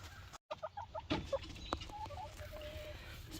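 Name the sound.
chickens clucking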